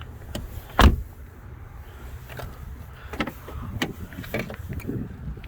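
Power windows operate inside a 2002 Volkswagen Jetta TDI diesel sedan, a faint, quiet motor hum broken by one sharp thump early on, followed by scattered small clicks and knocks.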